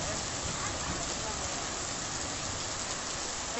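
Heavy rain pours down in Pinheiros, a dense, continuous hiss of drops hammering surfaces, loud and unbroken from start to finish.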